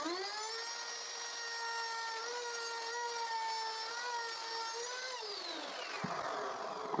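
A handheld router cuts a groove along the edge of a wooden plank, a loud steady whine with harmonic tones held for about five seconds before the pitch drops as the motor winds down, ending with a clack.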